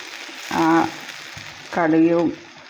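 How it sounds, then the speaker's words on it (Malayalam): Small onions in a pan of Kerala nadan ulli curry sizzle steadily as they are stirred, with two short tonal humming sounds rising over the frying. "കറി എല്ലാം ഒഴിച്ച് കൊടുത്ത് നമ്മളൊന്നുകൂടെ ഒന്ന് ഇളക്കി"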